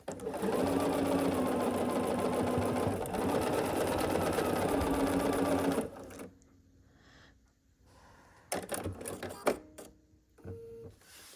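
A sewing machine runs steadily up close for about six seconds while stitching quilt block pieces together, then stops, leaving quiet handling clicks and rustles of fabric.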